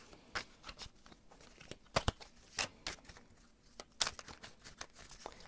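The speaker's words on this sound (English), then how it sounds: "gonna shuffle a little bit more." Tarot cards are shuffled by hand close up in a quiet room, producing soft irregular riffles and papery slaps in short bursts, with no talking.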